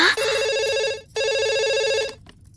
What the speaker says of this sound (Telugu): తల్లి గుర్తుకొచ్చి పబ్లిక్ ఫోన్ నుంచి అబ్బాయి ప్రైవేట్ గా ఫోన్ చేస్తాడు